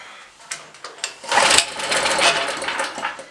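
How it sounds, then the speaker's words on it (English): A Blue Max Gen4000B generator being started on half choke, with a few sharp pull-start clacks followed by a small engine catching and running in a rough, buzzing, uneven whir close by. "Let's fire it up again, but I'm going to go half choke to start."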